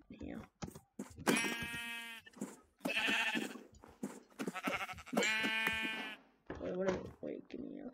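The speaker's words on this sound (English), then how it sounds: "lucky we have a few sheep here." Video game sheep bleating in a string of wavering, nasal bleats, some overlapping, with a person talking between them.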